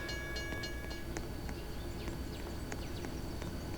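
High, thin metallic squeals of train wheels braking, several overlapping screeches over a steady low rumble of rolling railcars.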